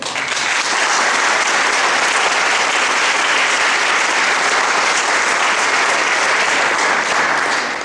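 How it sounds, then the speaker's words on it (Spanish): A large audience applauds loudly and steadily with dense, sustained clapping that fills the space for several seconds, with no voices rising above it. "un fuerte aplauso al Señor"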